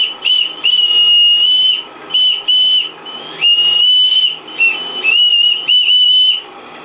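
Small steam whistle on the live steam model boat Flora, built from a Krick Alexandra kit, giving a series of shrill, piercing toots of varying length with brief gaps and a faint hiss between them.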